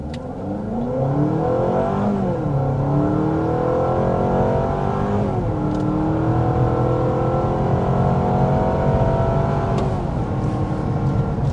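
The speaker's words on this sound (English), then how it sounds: "There was a 60 mile an hour acceleration with the CR-V Hybrid." A 2025 Honda CR-V Sport Touring hybrid SUV accelerates hard to 60 mph, heard from inside the cabin, engine and motor whine climbing in pitch through several shifts, steady and loud throughout.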